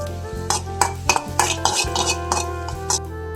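Close, loud scraping and clinking of a utensil in a pan as peanuts are stirred into a banana and wheat dough mixture, irregular strokes over a steady low hum.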